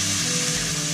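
Steady loud sizzling and frying from a hot pan as chopped tomatoes go in for a chilli con carne, a continuous close hiss with no talking.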